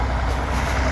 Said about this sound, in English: Little grey Fergie going.